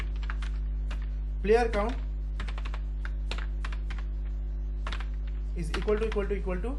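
Someone types code on a computer keyboard in VS Code for a car racing game, with steady close key clicks running under a voice and a constant low electrical hum.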